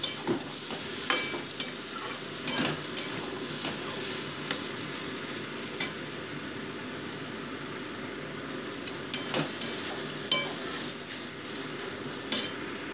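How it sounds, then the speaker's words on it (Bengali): Soaked soya chunks sauté in a spicy curry masala in a pan, a low steady sizzle with repeated spatula scrapes and clinks against the metal, close and without voices. "ভালো মতো এটাকে 5 মিনিট আমি কষিয়ে নিচ্ছি।"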